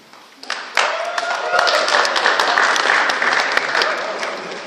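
Loud, sustained applause fills a hall at a graduate pinning ceremony, rising abruptly and holding steady as a dense wash of many clapping hands.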